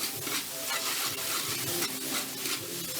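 Chicken feet adobo is stirred in a pan with sugar, giving steady sizzling and frying with repeated scraping and stirring strokes, close and continuous.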